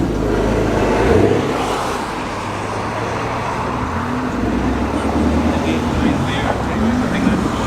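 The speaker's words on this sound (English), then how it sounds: "Looks like the Maserati Quattroporte is heading off again." A Maserati Quattroporte drives away from an April car meet at Combermere, its engine rumbling steadily and a little louder near the start, blended with continuous outdoor traffic and crowd noise.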